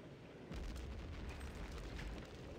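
A grenade blast inside a vent in the game Return to Castle Wolfenstein, a sudden loud boom at the start that rolls into a sustained low rumble and crackle lasting to the end.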